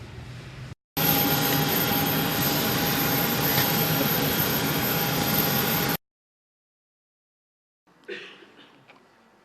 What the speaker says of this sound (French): le président de la République a pris son avion en direction de Paris.